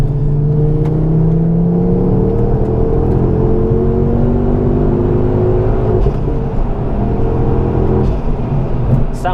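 A Collins Performance Stage 2 Ford Focus ST accelerates hard in third gear, its engine droning loudly from inside the cabin with a steadily rising pitch and no pause or talking.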